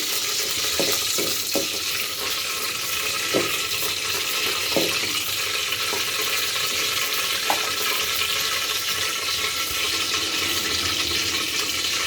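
Whole garam masala frying in a pan over medium heat, a constant close sizzle with occasional soft clicks and stirs, loud and even throughout, no speech.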